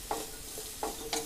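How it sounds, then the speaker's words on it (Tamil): Vegetables with a little salt sizzle in a hot pan while a utensil scrapes and tosses them in a few quick strokes. "இப்போ அந்த காய்க்கெல்லாம் கொஞ்சமாக உப்பு சேர்த்து நல்லா கலந்து வதக்கிக்கலாம்."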